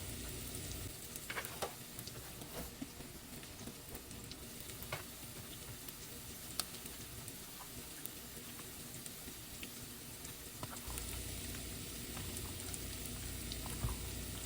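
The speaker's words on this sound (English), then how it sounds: "Let me go ahead and add the bacon now." Quiet, steady sizzle and soft crackle as bacon goes into doctored Bush's baked beans in a pan, with occasional faint clicks and stirring noises throughout and no talking.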